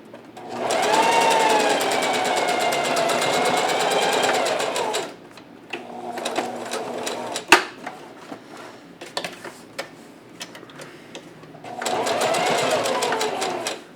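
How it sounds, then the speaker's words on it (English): A sewing machine stitching a straight seam on fabric for a cloth face mask, running in two steady bursts of motor whir with a quieter pause of fabric handling and clicks between them. "Now I'm going to sew straight stitch all the way on the 9-inch side."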